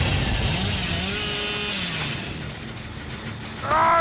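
A Hillbilly's chainsaw in the Dead by Daylight game whines with a rising and falling engine drone, easing off midway before a sharp, loud rev bursts in near the end.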